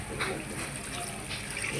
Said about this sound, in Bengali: এই যে এখন পানি দিয়ে দিব